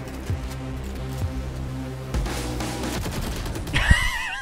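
Several scattered gunshots fired at the floor in a Valorant match, spaced irregularly over a musical game backdrop, ending with a sharper burst.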